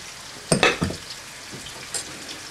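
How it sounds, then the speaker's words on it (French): Artichokes frying in oil, seasoned with pepper and salt, sizzle steadily in a pan, with a few sharp crackling bursts as they are stirred before the sizzle settles back to a quieter hiss. "appena l'olio inizia a friggere"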